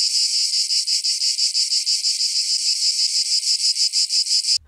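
A dense chorus of periodical cicadas in the eastern United States makes a loud, high, continuous buzzing drone with a fast steady pulse, running alone and then cutting off abruptly at the end.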